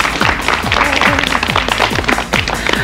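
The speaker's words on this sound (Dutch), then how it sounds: "even een applaus voor jezelf" A group of Dutch children clapping for themselves in a TV studio, busy scattered applause mixed with some overlapping voices and movement, steady and close for a few seconds.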